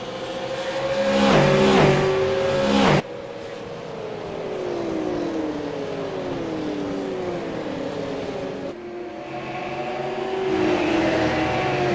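Super late model race cars roar around the Milwaukee Mile oval, loud engine notes sweeping up and falling in pitch as cars pass close by, with abrupt shifts in the sound partway through.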